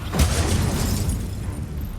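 An Expulso spell explosion in the Hogwarts Legacy video game: a single deep, booming blast that hits hard and then rumbles and fades over about two seconds.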